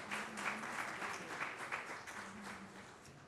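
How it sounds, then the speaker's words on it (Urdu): Audience applause for Olympians, including a female shooter who qualified for Paris, at a Pakistan PM House ceremony; steady, dense clapping from a large crowd fills the whole stretch at moderate loudness. "ان کے لیے بھرپور تالی لگائیں"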